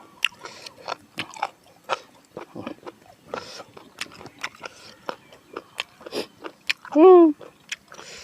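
Sharp, repeated crunches of someone chewing something crisp, close up, in an irregular rhythm with a brief voiced sound near the end.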